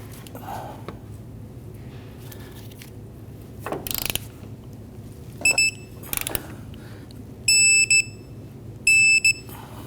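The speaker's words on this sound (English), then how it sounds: "Let's go ahead and torque down this forward vertical bolt to 110 foot-pounds." A torque wrench tightening a Kia Sorento front control arm bolt to 110 foot-pounds gives a few sharp ratcheting clicks in short bursts, close and clear over a low steady hum, with no talk.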